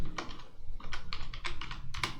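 Close, quick keystrokes on a computer keyboard while entering Excel shortcuts in a financial spreadsheet, short bursts of clicking taps with small irregular pauses between them.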